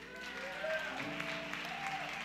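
Church congregation applauding for a baby, steady moderate clapping mixed with crowd voices and a sustained tone beneath.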